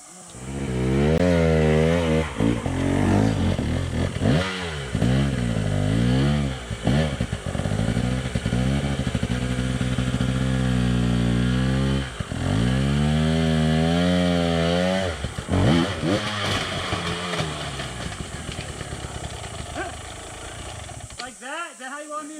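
A new KTM 300 XC two-stroke dirt bike rides hard enduro terrain in Central Texas, its engine revving and bogging in loud, rising and falling bursts close by for the whole stretch, with people talking over it.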